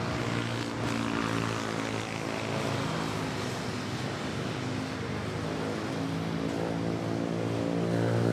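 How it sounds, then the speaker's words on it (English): A Cebu Pacific airliner on its Singapore to Manila flight touches down at Manila airport, a loud, steady jet-engine roar that holds close and constant throughout with no voices. "next we have Cebu Pacific, Singapore to Manila flight 5J818 touching down"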